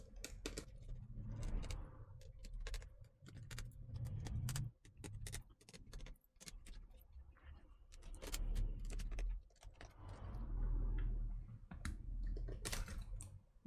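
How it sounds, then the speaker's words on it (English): Old keyboard being pried out of a Dell XPS 15 laptop, with scattered plastic clicks, snaps and rattling handling noises over several seconds. "Let's get the rest of the keyboard out"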